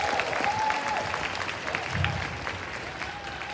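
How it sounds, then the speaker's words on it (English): An audience at a Bloomfield High class of 2021 graduation ceremony applauds the graduates, a steady wash of clapping heard from a distance with a faint tone running beneath. "Let's give them a round of applause."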